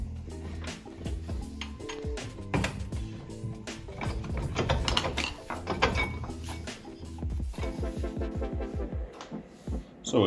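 A hand ratchet clicks in quick repeated bursts while loosening the tight brake caliper screws on an Opel Vectra B, close by, with metallic clatter and pauses between strokes.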